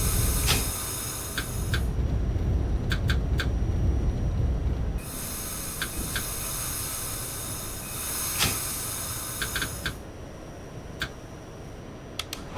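A Manhattan-bound Q train on the Brighton Beach Line in the OpenBVE simulator runs with a steady rumbling roll, hissing and repeated rhythmic clicks of wheels over rail joints, easing in loudness partway through.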